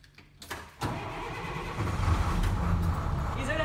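A converted bus engine cranks briefly, then catches and settles into a steady, rumbling idle, heard close.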